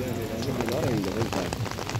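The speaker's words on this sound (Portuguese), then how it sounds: "Do lado de lá tá chovendo bastante." Rain falls outdoors in Italy with a steady, dense patter on surfaces beneath a person talking nearby.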